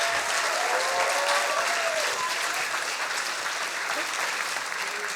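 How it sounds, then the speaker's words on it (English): A large audience at a science slam event gives Roberta steady, loud applause, with dense clapping sustained throughout and faint crowd murmur beneath. "Please, big applause for Roberta."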